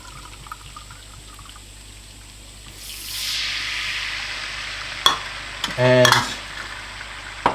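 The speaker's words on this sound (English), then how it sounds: "while it's bubbling, I want to add some white wine" White wine splashed into garlic already bubbling in a pan for a pasta sauce: a quiet sizzle swells into a broad hissing surge as the wine hits, followed by a few sharp utensil clinks and scrapes.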